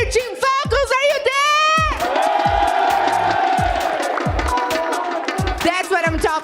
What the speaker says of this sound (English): Team Falcons crowd are going crazy and they are chanting Falcons, Falcons.